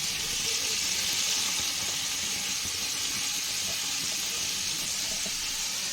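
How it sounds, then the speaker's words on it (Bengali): Pointed gourd (potol) frying in oil left over from fish, a steady, fairly faint hiss and sizzle with no speech. "এবার আমি ওই তেলেই পটলগুলোকে ভেজে নেব"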